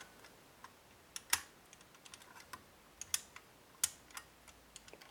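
A CISA lever lock being picked, giving sparse, sharp metallic clicks and ticks at irregular intervals, faint and close, with a few louder snaps among quieter taps.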